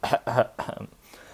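A person gives a quick, deliberate double cough, two short rough bursts close to the mic, followed by a brief throaty trailing sound.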